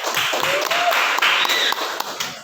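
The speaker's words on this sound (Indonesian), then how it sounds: "Tepuk tangan." Scattered clapping from a classroom audience, fairly soft and brief, with a raised voice and whistle-like tones over it.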